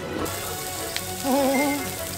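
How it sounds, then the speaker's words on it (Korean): Grilled meat sizzles as it cooks, giving a dense, steady crackle like light rain. A brief wavering tone rises over it midway, and no one speaks. "저 지글지글 맛깔나게 익은 고기의 자태를 보라"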